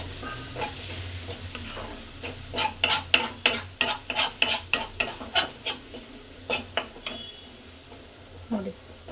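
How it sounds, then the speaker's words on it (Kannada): Eggs frying with dill greens (sabbakki soppu) give a steady sizzle under a run of sharp, rhythmic spatula scrapes and taps as they are stirred in the pan, tapering off toward the end. "ಇವಾಗ ಫುಲ್ ಚೆನ್ನಾಗಿ ಫ್ರೈ ಮಾಡ್ಕೊತೀನಿ"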